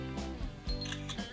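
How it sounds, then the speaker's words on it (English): Camera shutter clicks from a Xiaomi Redmi Note 3 phone with its 16-megapixel camera, flash off, a few quick close electronic clicks with nothing else around them. "Okay, so let's take a photo."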